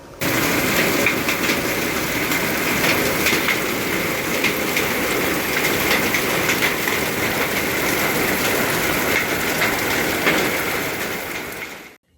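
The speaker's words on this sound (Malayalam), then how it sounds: "ശക്തമായി പെയ്തിറങ്ങിയ മഴ ചുട്ടുപൊള്ളുന്ന വേനൽ ചൂടിന് നേരിയ ശമനം വരുത്തി." Heavy summer rain mixed with hailstones in Munnar's high ranges pours down in a loud, dense, unbroken roar with a rattling patter on surfaces, steady throughout before cutting off abruptly at the end.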